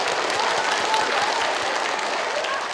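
Studio audience on a Vietnamese picture-puzzle game show applauds steadily, a dense, even wash of clapping that holds through the whole stretch without a break.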